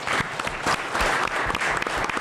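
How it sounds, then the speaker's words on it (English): A live audience bursts into a full round of applause at a community sports show, steady dense clapping that stays loud and close throughout, with a few voices mixed in. "I think he deserves a great round of applause."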